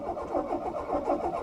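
A Citroën BX 16 Valve, unused for 18 years, cranks without starting, the starter motor turning the engine over in a rapid, rhythmic churn heard up close.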